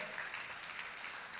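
Church congregation applauding during a Spanish-language worship service, a steady dense wash of clapping at moderate level with no pause across the short stretch.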